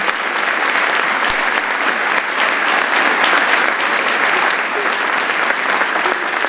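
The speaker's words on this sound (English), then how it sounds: "So a round of applause to the 11th through 20th." Loud, dense applause from a ceremony audience honoring Veterans Day award recipients, many hands clapping steadily and close for several seconds, with a single sharp knock early on and no speech.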